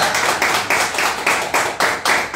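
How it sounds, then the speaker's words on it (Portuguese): A morning church-service audience claps in a steady, rhythmic beat, roughly four to five claps per second, close and loud with no talking over it. "Aplaude ao Senhor nessa manhã"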